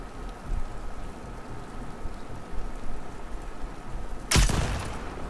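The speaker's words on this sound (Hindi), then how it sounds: "इसको गोलियां मार रहा है।" A sharp burst of gunfire rings out near the end in The Last of Us Part II, after several seconds of steady rain-like hiss.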